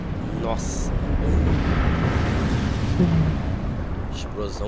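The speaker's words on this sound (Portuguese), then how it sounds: "Explosão galáctica." A big explosion goes off in the video game Resident Evil 5, a broad rumbling roar that swells and fades over several seconds. A voice talks over it.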